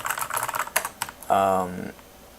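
Rapid typing on a computer keyboard while configuring Neovim on NixOS, with a quick irregular run of close key clicks, then a short burst of louder clatter that stops abruptly.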